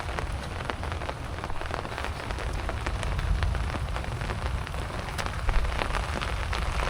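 Steady rain pattering on surfaces outdoors at the first rainfall after winter, a dense, even hiss with scattered sharper drops throughout, fairly quiet and continuous with no talking.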